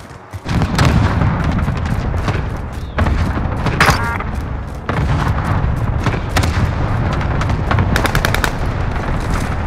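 Cluster airstrike explosions in a combat video game land as a dense barrage of rapid bursts and heavy booms, loud and close, with a few sharp pauses between waves and no speech.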